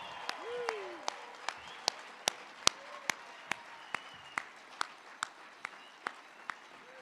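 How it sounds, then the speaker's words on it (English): Scattered, sparse clapping from an audience at a National Mining Hall of Fame induction ceremony, a dozen or so distinct sharp claps spaced across the moment over a quiet hall murmur. "Let's give them all a round of violent applause"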